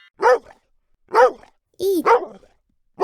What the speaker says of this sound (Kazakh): Бұл иттің дауысы.